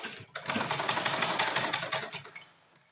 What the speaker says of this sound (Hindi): अब हम सिलाई लगाएंगे।